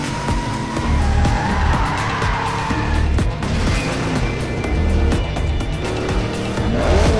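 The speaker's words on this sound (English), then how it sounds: "Arthur floored the gas pedal." A car accelerates hard with tires skidding and squealing in a movie scene, a loud engine roar with repeated screeching bursts across several seconds.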